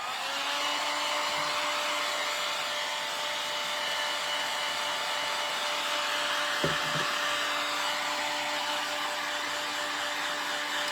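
A heat or hair dryer blowing steadily to dry paint on a rustic cottage-style textured project, a constant close whirring hum with a brief knock partway through.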